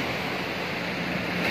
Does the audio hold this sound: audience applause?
no